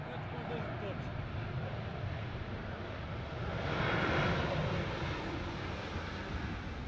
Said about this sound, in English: This Boeing 747 landed very hard in Amsterdam.